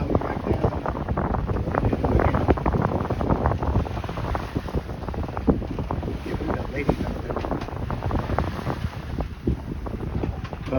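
A motoring sailboat pounds through choppy water in heavy wind between Tilloo and Little Harbor, a constant roaring rush of wind and spray with repeated thuds of hull against waves.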